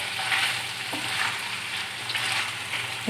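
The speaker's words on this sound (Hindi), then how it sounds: "इसका कलर चेंज होने तक मैं करूँगी फ्राई" Chicken boti pieces frying on a tawa over low to medium flame, a steady, close hiss of sizzling oil with a few soft stirring knocks, no voices.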